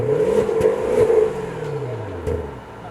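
A Maserati Quattroporte sedan engine runs with its exhaust valves shut, a smooth mid-pitched drone that swells with a couple of blips and then settles lower, heard close with no talking.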